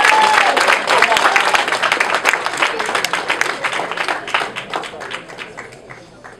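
Audience at an award ceremony and dinner applauding, many hands clapping in a full burst that gradually thins and fades into scattered claps.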